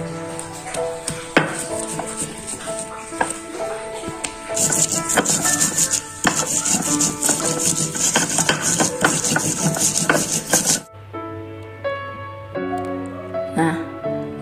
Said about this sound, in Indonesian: kita ulek dulu bawang putih, ketumbar, dan garam